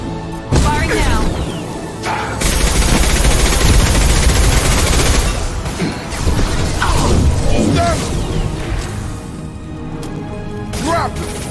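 Mass Effect video game gunfire: dense, sustained bursts of rapid shots crackling and crashing close up for several seconds, with voices underneath.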